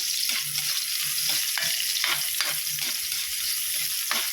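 Onions sauté in oil in a pan with a continuous, even sizzle up close and soft stirring taps at irregular intervals.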